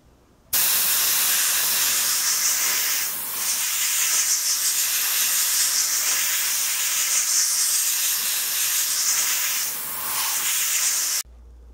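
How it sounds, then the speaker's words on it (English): Steady airbrush or spray-can hiss coating the wheels and undercarriage of a 1/48 scale Tamiya Churchill tank model in brown; a continuous close spray runs about ten seconds with brief dips, no talking. "I'm going to spray the wheels and part of the undercarriage with brown color"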